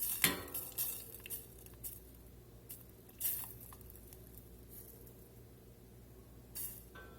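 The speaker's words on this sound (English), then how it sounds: "Just want to swirl that butter around and let it emulsify." Butter swirled in a pan for a Crystal hot sauce butter sauce, with faint intermittent clinks and scrapes of metal cookware over a quiet background, no voices.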